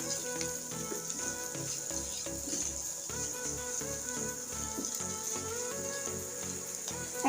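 Chopped tomato frying in a pan with egg sizzles steadily and loudly throughout, with faint stirring and scraping mixed into the constant hiss.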